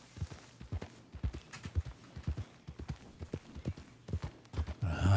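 Horse hooves clip-clop steadily in a roleplay video game, a close, rhythmic walking gait of regular strikes that runs throughout, with a brief louder burst near the end.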